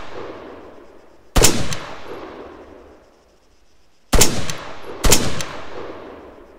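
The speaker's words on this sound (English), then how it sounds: "it sounds like the gun is just using the default ArmA assault rifle sounds" Default ArmA 3 assault rifle sounds on a People's Liberation Army mod weapon: three loud, sharp single shots spaced a few seconds apart, each trailing off in a long echoing tail over faint background hiss.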